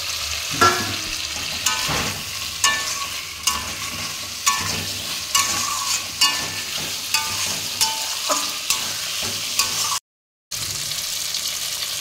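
Steady sizzling of ginger-cumin paste frying in oil with fried potatoes for a rohu fish curry, with repeated scraping and stirring strokes, close up, briefly cut to silence near the end.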